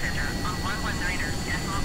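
Aircraft engine drones as it throttles up in Microsoft Flight Simulator, a steady loud hum beneath a voice and cockpit radio chatter.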